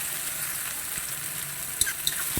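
Onions and green chillies frying in a pan for a dried fish (karuvadu) onion fry, giving a steady close sizzle with a few sharp crackles near the end and no voices.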